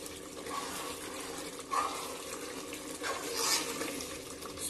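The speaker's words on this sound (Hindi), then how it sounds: "जरा सा और भुनेंगे बस।" Tomato masala for tinde gosht frying and being stirred in a pan, a steady close sizzle with occasional scraping bursts of the spoon against the pot, no voices.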